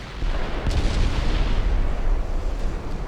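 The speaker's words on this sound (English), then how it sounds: "I take a penetrating flooding hit" A penetrating shell strikes a warship in naval battle game Shipyard Champions, landing as a heavy, low booming impact with a rumbling tail, one distinct hit under steady battle noise.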